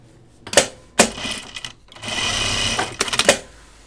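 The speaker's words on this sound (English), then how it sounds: "I'm going to sew that because this is on the bias now." A sewing machine stitches fabric cut on the bias in short bursts, with sharp clacks of the needle between a longer steady whirring run, close and clear with no talking.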